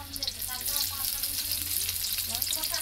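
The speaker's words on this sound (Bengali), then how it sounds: "এবার আমরা কড়াতে পেঁয়াজটা দিয়ে দিলাম" Onions for crispy fried birista sizzle and crackle steadily in hot oil in a wok, a loud, continuous frying hiss with no voices.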